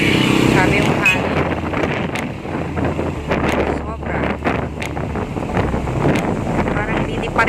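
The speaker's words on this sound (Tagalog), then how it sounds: "Grabe yung hangin." Strong gusting wind blows outdoors under dark clouds before a heavy rainstorm, roaring and buffeting the microphone in uneven surges while a person speaks briefly.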